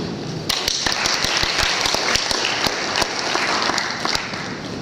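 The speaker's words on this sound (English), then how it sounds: "we have to provide big applause to the ASEAN Foundation and Microsoft for this opportunity" Seminar attendees at an ASEAN young entrepreneurs event clap for the ASEAN Foundation and Microsoft: crisp, closely packed handclaps from a sizable audience, evenly sustained throughout.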